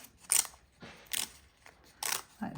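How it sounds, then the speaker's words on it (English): Copy paper is peeled away from fabric in several short crisp tearing bursts, close and fairly quiet, separated by brief pauses. "So I'm pulling the copy paper apart from the fabric."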